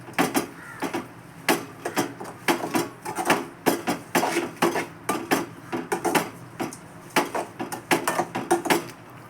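A spoon scrapes and knocks rhythmically against a pan while cucumber halwa is stirred with syrup, giving repeated clinks and scrapes at a brisk, even pace, close and clear.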